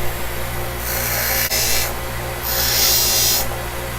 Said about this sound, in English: we're gonna grind out that section right there